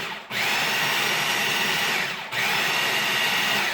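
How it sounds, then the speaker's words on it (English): A food processor pulses hummus made with tahini in two long, loud, steady whirring bursts, separated by a brief pause, close by with no talking. "And then we're going to take and we're going to pulse this."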